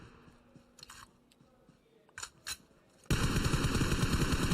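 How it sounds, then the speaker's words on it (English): Gunfire from a BGMI battle-royale esports match: after a few quiet seconds with scattered faint clicks, a loud, continuous automatic spray of rapid shots suddenly erupts and holds to the end. "One single spray, and AKOP eliminates all of them!"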